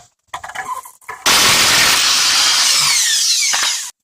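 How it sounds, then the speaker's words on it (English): A power tool spins a bolt out of the front suspension of a Lexus ES300, running in one loud continuous whirring burst of about two and a half seconds after a few short clanks, then stopping abruptly. "now I'm going to remove the bolt"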